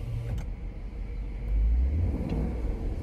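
A cheap car's engine runs rough and struggles, a low uneven rumble that swells in a brief rev before settling back, heard from inside the car.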